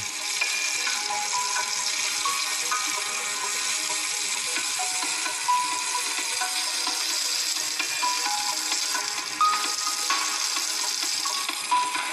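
Chicken pieces fry in hot oil for adobo, a continuous bright sizzle and crackle with small pops throughout, close and steady, and nobody speaks.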